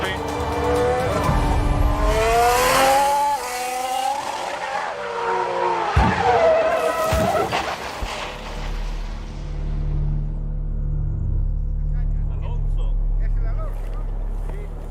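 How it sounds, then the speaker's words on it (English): Formula 1 car crash during testing, Fernando Alonso's car going off with a wheel coming off: loud, close rush of engine and tyre noise, a sharp impact jolt, then a heavy low rumble as the car tumbles and settles, with voices over it. "Alonso's had a crash."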